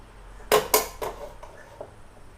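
A semolina cake tin set down in a hot aluminium steaming pot gives two sharp metallic clanks close together, then a softer knock and a faint rattle as it settles.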